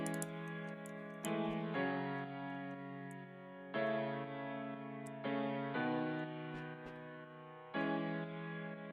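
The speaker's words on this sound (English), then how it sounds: "We got some piano chords which sound like this." Sad piano chords sound alone at a quiet level, about seven sustained chords struck in a slow, even sequence, each ringing and fading before the next, with faint ticking clicks overhead.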